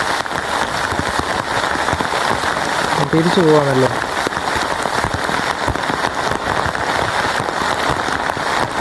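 Heavy monsoon rain pours down in a steady, loud, dense roar of drops, with a short stretch of a man's speech partway through.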